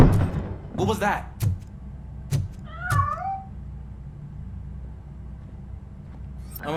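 Cat meowing in the video game Robocop: Rogue City: two clear, rising-and-falling meows a couple of seconds apart, with soft thumps and a low, steady game ambience underneath.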